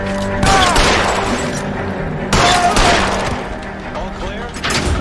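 Bursts of gunfire in the video game L.A. Noire crack out in loud volleys, with a dense fusillade at the start and repeated shots through the scene, under shouted game dialogue.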